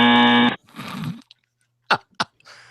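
A short, loud electronic buzzer blares for half a second, followed by brief voice fragments and a few faint clicks.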